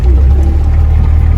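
A vehicle's engine drones low and steady on a narrow mountain jeep track, fairly close and loud, with a muffled rumbling hum and no talking.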